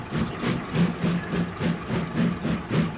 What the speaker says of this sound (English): With a blast of his whistle, he went to fetch his return train.